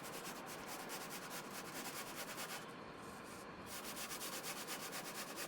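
Sandpaper rubbing steadily over the balsa wood of a beginner's glider being shaped for covering, a close, continuous rhythmic scratching with a brief pause midway.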